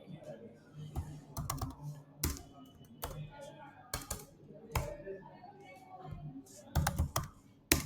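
Keys clatter on a computer keyboard in irregular bursts of clicks as a name is typed into a short-answer field of a Google Form, with soft background noise in between.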